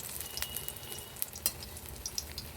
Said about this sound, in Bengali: এলাও ভালো করে দুই পাখায় লাল লাল করে ভাজিয়া নিম